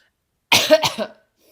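A single close, harsh cough, a couple of quick bursts, with silence before and after.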